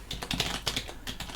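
Rapid typing on a computer keyboard, close and clear: a quick burst of sharp clicking keystrokes with short pauses in between.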